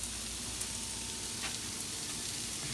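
Peppers and vegetables fry in a pan with a close, dense, continuous sizzle that holds steady throughout.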